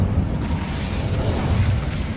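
An Incendio fire spell erupts in Hogwarts Legacy, a dense, rumbling burst of flame that stays loud and low-heavy for about two seconds, close and unbroken.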